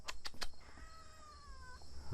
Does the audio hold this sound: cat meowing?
yes